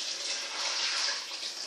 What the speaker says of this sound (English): So first I'll add in my first bit of water.